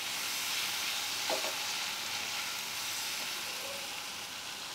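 Water poured into frying onion-tomato masala in a pan for an egg and masoor dal curry, giving a steady, fairly loud broadband sizzle and bubbling throughout, with no talk.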